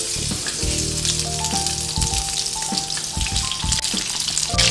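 Breaded scampi dropped into boiling oil, a loud, close, continuous crackling sizzle with bubbling bursts, under faint tonal background music.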